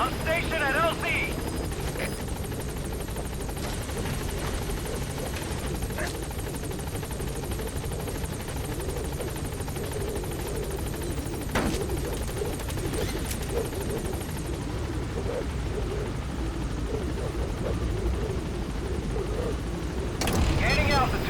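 In the Metal Gear Solid V video game, the Pequod helicopter comes in to a landing zone, its steady rotor thrum droning loud and continuous throughout, with a brief sharper noise near the end.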